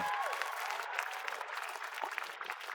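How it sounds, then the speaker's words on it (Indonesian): A studio audience at an Indonesian comedy talent show breaks into dense, sustained applause, many hands clapping continuously with a faint crowd murmur underneath, filling the whole stretch at an even level. "Boleh kita kasih tepuk tangan sekali lagi untuk kanan kiri."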